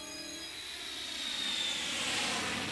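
A jet airliner flies past with a steady, rising broadband roar and a faint high whine, building slightly in loudness over a few seconds with no voices.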